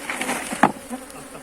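Honeybees buzzing around an open beehive, with drones present, a close continuous droning hum with one brief louder swell as a bee passes near.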